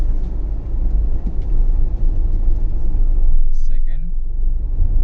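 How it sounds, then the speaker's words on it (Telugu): A Tata Altroz diesel car drives in city drive mode, its engine giving a steady low rumble throughout as someone talks over it. "సిటీ డ్రైవ్ మోడ్లో డ్రైవ్ చేద్దాం."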